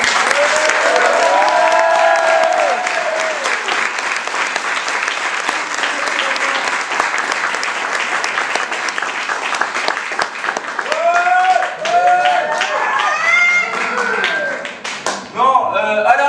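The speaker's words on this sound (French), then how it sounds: "vous pouvez applaudir le plus fort possible Julie et Sarah qui ont programmé ce spectacle" An audience at a live show in Brussels gives dense, loud, sustained applause that runs the whole time, with voices shouting and talking over the clapping.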